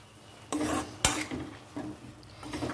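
Sliced chapati pieces for kothu chapati are stir-fried in a pan, and a spatula clatters and scrapes against the metal in a few sharp strokes over a faint background sizzle, close by and without speech.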